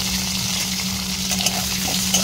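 Chopped onion frying in a wok over cumin tempering, a dense steady sizzle with a constant low hum underneath and a couple of faint clicks, no voices.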